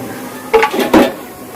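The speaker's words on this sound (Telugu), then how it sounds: "దీన్ని మూత పెట్టుకుందాం పది నిమిషాలు" A lid goes onto a cooking pot of eggplant and prawn curry with two quick, close metallic clanks about half a second apart, then quiet.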